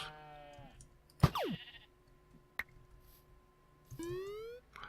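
Synthetic, tonal goat-like bleats with sliding pitch from goats in a modded life-simulation video game, a couple of short calls separated by quiet gaps and a faint background hum.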